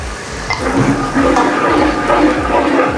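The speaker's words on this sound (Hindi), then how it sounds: "प्याज के पेस्ट को भी तेज आंच करके फ्राई करेंगे" Onion paste frying with chicken pieces over a high flame for chicken achar gives a steady, close sizzle and hiss, with a few soft clinks of stirring.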